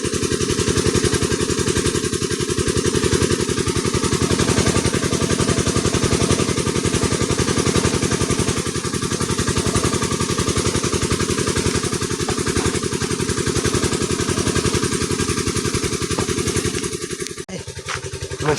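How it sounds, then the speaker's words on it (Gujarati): A farm water pump engine runs steadily with a rapid, even thumping beat, loud and close, continuing throughout with a slight change near the end. "મિત્રો મશીન ચાલુ થઈ ગયું છે તમે જુઓ પાણી કેવું આવે છે"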